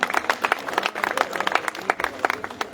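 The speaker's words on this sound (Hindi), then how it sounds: "तो माननीय सुभाष बराला जी के लिए एक बार जोरदार तालियां।" Scattered clapping from an audience at a Jan Aushadhi Diwas event in a Fatehabad civil hospital, greeting MP Subhash Barala; fairly dense, uneven claps over a few seconds, moderately loud.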